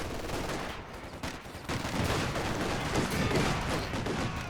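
Gunfire in a Company of Heroes 2 battle, including sniper and anti-tank rifle fire, heard as dense, loud, overlapping shots and bursts that keep going throughout.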